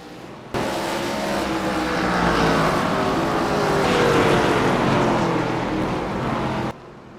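D class ARCA race cars pass near the pit road exit at Langley, their engines rising abruptly into a loud, swelling roar that holds for several seconds and then cuts off sharply.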